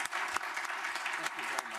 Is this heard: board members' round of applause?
yes